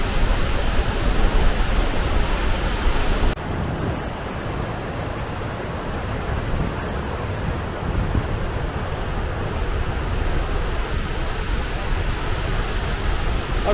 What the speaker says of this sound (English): Certainly very, very impressive waterfall,